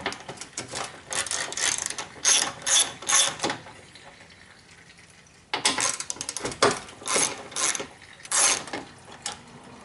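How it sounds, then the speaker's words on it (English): A ratchet unbolts the 10mm hood latch bolts on a 2002 Toyota Camry, loud and close, with rapid clicking bursts in two groups separated by a brief quieter stretch. "Go ahead and unbolt the hood latch."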